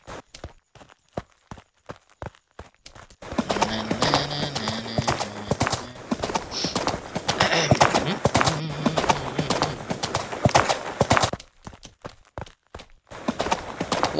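Horse hooves clip-clop in rhythmic bursts alongside a whinny in the video game Horse Riding Tales, with sparse taps at first, then a dense stretch of trotting and game sound effects; a person talks over parts of it.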